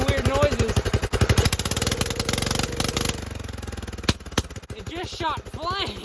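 An old Toro Wheel Horse lawn mower engine idles loud and close with a steady, rough chugging pulse that briefly stumbles, and a voice talks over it toward the end.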